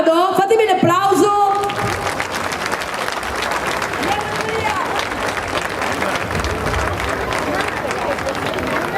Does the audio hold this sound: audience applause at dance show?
yes